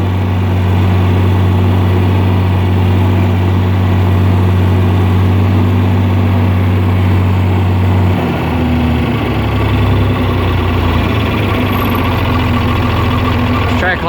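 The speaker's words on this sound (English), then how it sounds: "And I had the throttle wide open. You can hear it slowly gaining throttle." A John Deere 4010 tractor engine runs at wide-open throttle while climbing a hill, a loud steady drone that shifts pitch partway through as the load changes, heard close and continuous.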